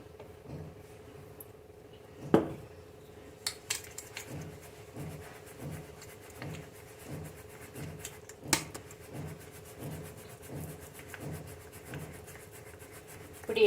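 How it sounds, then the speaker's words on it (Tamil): Ground rice flour for seedai sifted through a sieve, heard as a steady series of soft rhythmic rubbing and scraping strokes, close and fairly quiet, with a few sharper knocks. "இதை சலித்து எடுத்துக்கலாம்."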